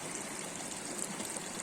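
Water running steadily from a micro hydro intake pipe, a constant faint rushing trickle with no breaks and no voices.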